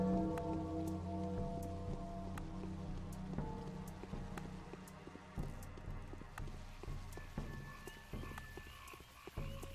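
Rain falls in the horror video game Pathologic as a steady, dense patter of droplets. Low sustained ambient tones hum underneath it throughout.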